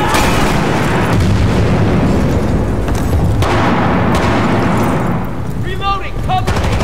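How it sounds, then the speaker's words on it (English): A grenade blast in Battlefield Bad Company 2 amid a loud, dense battle, with booming impacts and gunfire throughout and voices shouting over the chaos. "Grenade!"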